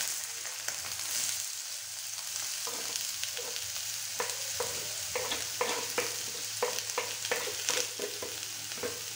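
Chopped onion with garlic and ginger sautéed in hot oil: a continuous bright sizzle with repeated spatula scrapes and taps against the pan, close and steady, with no voices.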